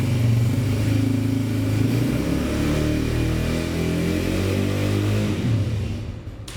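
A new Honda CB125F motorcycle's 125cc single-cylinder engine runs nearby for a sound check, idling with a steady mid-pitched putter and then revving up and down before easing off at the end, with no talking.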